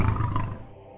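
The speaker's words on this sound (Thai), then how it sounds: "พลันเสียงคำรามขู่ก็แววมาจากทิศที่นางชี้บอก" A wild animal, a big cat, gives a deep menacing growl in a forest setting, loud and close, rumbling for about half a second before fading into quiet.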